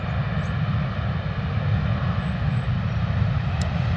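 A Ryanair airliner on landing at London Stansted Airport puts out a steady, loud, low jet-engine roar from reverse thrust, continuous and even across the few seconds.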